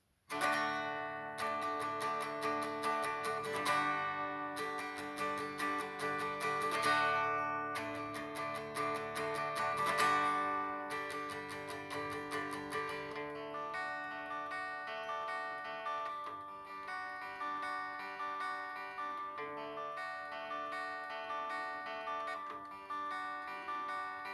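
Electric guitar plays a song intro slowly, a steady picked melody with ringing sustained notes and brief strums, alone without talk, fairly constant in level.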